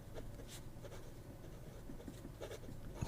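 Lamy Safari fountain pen with a medium nib and light purple ink writing on paper, a soft continuous scratchy rustle of the nib moving steadily, close and quiet, with a slightly firmer stroke near the end.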